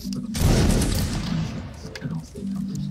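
A massed musket volley crashes out in the Mount and Blade Warband game during a line-infantry siege, one loud ragged burst with a rolling tail, with voices talking over it before and after.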